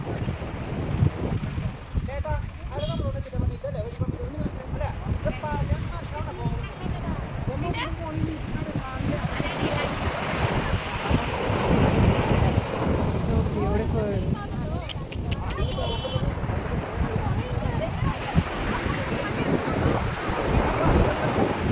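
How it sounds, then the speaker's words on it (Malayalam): Strong wind buffets the microphone at Chavakkad beach while surf breaks and washes along the shore in a constant rushing roar, with people talking loudly over it. "നല്ല കാറ്റ്."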